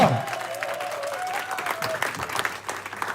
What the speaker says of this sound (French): oh, acclame comme un héros. Acclame comme une héroïne de Jésus-Christ.